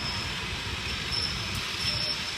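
An Uzbekistan-branded passenger train of Uzbekistan Railways at Turkistan station, heard as a steady broadband rolling rumble with a faint high whine, continuous and fairly close, with no talk.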